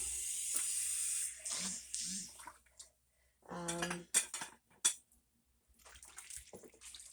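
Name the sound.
washing dishes and cutlery by hand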